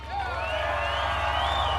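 A crowd at a tank weekend event cheers, with rising whoops and hollers over a low, steady rumble of background noise. The cheering is loud and sustained across the whole moment.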